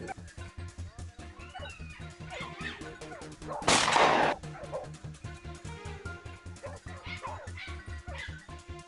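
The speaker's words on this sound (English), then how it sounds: "our dogs erupted into a frenzy, barking wildly at a dense bush" Hunting dogs bark wildly at a dense bush during a wild boar hunt in New South Wales, a rapid run of close, overlapping barks with one loud crashing burst in the middle.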